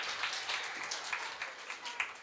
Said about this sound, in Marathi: पालकांसाठी तर जोरदार डबल टाळ्या व्हायला पाहिजे. जोरदार टाळ्या.